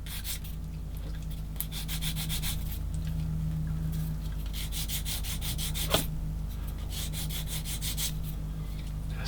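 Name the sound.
sanding glue off a plastic model kit part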